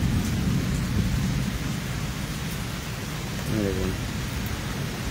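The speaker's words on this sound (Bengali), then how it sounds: "প্রচণ্ড বেগে ঝড় বৃষ্টি হচ্ছে" A violent storm brings heavy rain and deep thunder, a loud continuous wash of rain with rumbling swells, while a voice briefly speaks over it.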